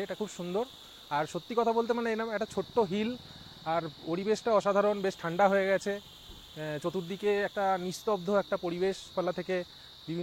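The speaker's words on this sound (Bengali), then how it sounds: "ঝিঝি পোকার ডাক আসছে, একদম শান্ত," Crickets chirp steadily at a quiet, cool hill bend near Mainpat, Chhattisgarh, a faint continuous high trill running beneath someone speaking throughout.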